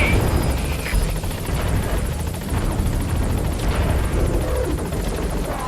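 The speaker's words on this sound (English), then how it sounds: "Support helicopter has arrived." A support helicopter arrives at a landing zone in a Metal Gear video game, its steady, loud rotor thrum continuous throughout under a dense wash of engine noise.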